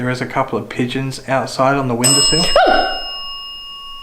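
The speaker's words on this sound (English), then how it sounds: "I explained the bell and then the bell rang." Small bell rings with a bright, clear ding that fades out slowly, heard right after a voice talks during a paranormal investigation at the Albany Convict Gaol.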